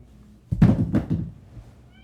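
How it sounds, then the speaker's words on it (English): A pet cat named Darjeeling lets out a couple of short, close meows, with a soft knock-like thunk mixed in, then quiet. "And that's our cat, Darjeeling."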